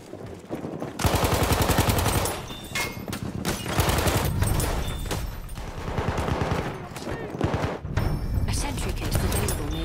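Hellriegel submachine gun fire in Battlefield 1, loud sustained automatic bursts with rapid rattling shots and brief pauses, dense and close throughout, with no voices over it.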